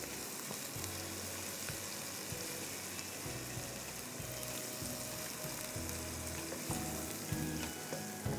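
Crushed garlic and Italian paste fry in a pan with a steady, close sizzle, broken by occasional low knocks of a spoon against the pan.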